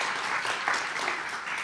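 An audience at a forum on sustainable AI applauds after lunch in a dense, steady wash of clapping from many hands.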